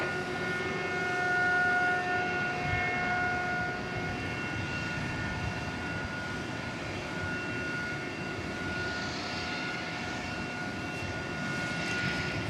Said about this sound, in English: that is the sound of what's called an air start